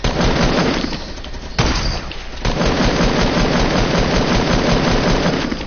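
Dense, loud gunfire in the Fortnite battle royale video game, with sustained rapid automatic shots and bursts filling the whole stretch, broken only by a couple of brief dips.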